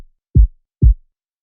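Low punch layer of a rawstyle kick made from a default FL Studio kick sample, EQ'd to strip out mids and treble: two soft, deep, muffled thumps spaced apart, dull and bass-heavy with no click.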